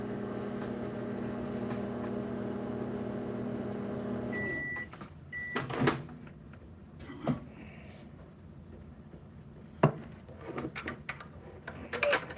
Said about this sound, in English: if you're hearing the microwave run, that's what I'm doing, is melting this plastic down